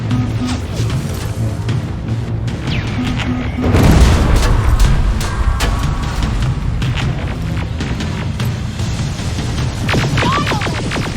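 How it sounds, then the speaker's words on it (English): Grenade explosions in the Terminator: Resistance video game, a heavy booming blast around the middle over a dense rumbling battle bed with scattered gunfire-like crackle, loud and close. "Got grenades? Fucking throw them!"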